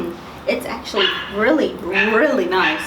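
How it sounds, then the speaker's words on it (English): Dogs outdoors give several short yips and whimpering barks, mixed in with a person talking nearby. "Excuse the dogs."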